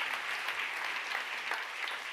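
Audience applause at a closing session: a continuous, fairly soft patter of many hands clapping, heard from a moderate distance.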